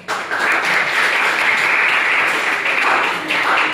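A class audience applauds a student in a civics lesson: a steady, dense burst of clapping that lasts throughout, loud and sustained with no pause.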